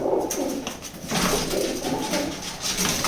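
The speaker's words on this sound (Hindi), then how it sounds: "कबूतरी भी काफ़ी स्ट्रॉन्ग है, देखिए किस प्रकार से दोनों के दोनों हमला कर रहे हैं उस पर" White and grey pigeons fighting at a nest give close, repeated low coos over a steady background, with no voices.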